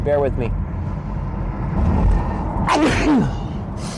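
A single short sneeze bursts out near the start, followed by a speaking voice and low road-vehicle rumble in the background, with a rising squeal later.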